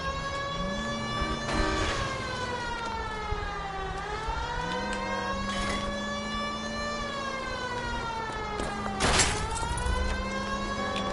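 A police car siren in the game L.A. Noire, loud and near, cycling in smooth rising and falling wails with a few sharp impact noises between.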